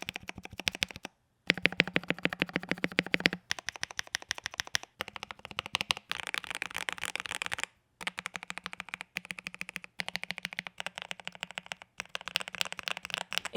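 Rapid typing on a Keychron V1 keyboard with stock plate-mounted stabilizers, a dense run of crisp, higher-pitched clacks in bursts separated by brief pauses, close and clear with no talk.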